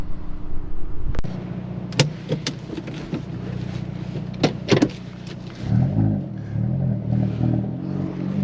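A 2020 Hyundai Veloster N hot hatchback rumbles with a low engine hum, broken by several sharp interior clicks and knocks, then the engine note swells and pulses louder as it pulls away.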